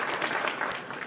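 Canned applause from a push button: a short burst of dense clapping and cheering that fills the whole moment at steady volume, with no one talking over it.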